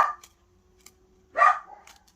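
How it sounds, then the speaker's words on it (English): A house dog indoors gives two short, sharp barks, one at the start and another after a quiet pause, fairly close and loud. "My dog does not like having other dogs staying here."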